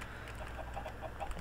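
Chickens in Minecraft cluck in short, quiet, repeated notes, several soft clucks spread over a brief moment against faint background noise.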